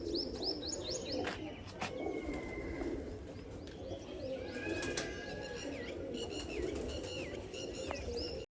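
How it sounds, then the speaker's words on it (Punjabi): Pigeons of high-flying Hazra-line breeds in a village house loft give a steady, close murmur of low coos, with scattered chirps and whistling calls rising over it throughout and no talking. "ਸਾਰੇ ਕਬੂਤਰ"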